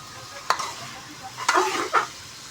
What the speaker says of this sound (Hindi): बस इसको मैं मिक्स कर दूं अच्छे तरीके से।